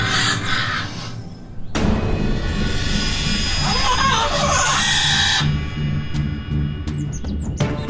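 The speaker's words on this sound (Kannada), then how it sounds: "ಯಾವ್ದೋ ಪಕ್ಷಿಯ ಚೀರಾಟ, ಅದು ಅಪಾಯದಲ್ಲಿದೆ ಅನ್ಸುತ್ತೆ." A bird cries out in distress with loud, shrill, clucking calls, first in short bursts and then in a long, sustained outcry before trailing off.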